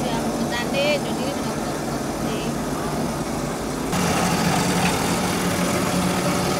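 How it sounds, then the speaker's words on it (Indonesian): An old machine at Indonesia's oldest cigar factory runs with a steady, dense mechanical drone. The noise stays constant throughout and grows slightly louder near the end, with faint voices in the background. "Ini suara mesinnya cukup lama untuk berhenti ya."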